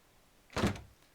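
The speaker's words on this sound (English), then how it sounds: "Michiru simply opens the door and trudges out." A single short door sound in a visual novel, one muffled thunk or click of a door opening, fairly close and isolated against a quiet background.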